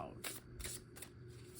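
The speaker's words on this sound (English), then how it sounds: "That was a terrible shuffle" Playing cards are shuffled by hand in quick riffling bursts, about five crisp rustling flutters close to the listener, with faint background noise between them.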